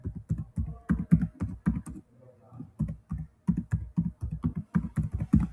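Fingers typing contact information on a computer keyboard, a close run of quick, even key clacks that pauses briefly midway and then resumes at the same brisk pace.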